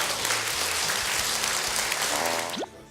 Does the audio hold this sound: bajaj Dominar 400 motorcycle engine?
no